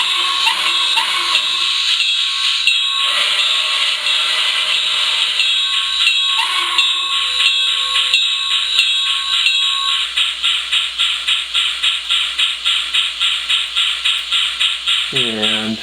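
Sound card of a Bachmann 0-4-0 Porter side tank model locomotive, converted to battery power, playing a sustained high whistle-like tone with buzzy overtones, then a run of rhythmic chuffs that speed up before a final sweeping sound.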